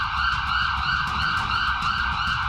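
A white ambulance's siren wails loud and close in a steady, continuous warbling cycle, with a low road rumble beneath and no voices.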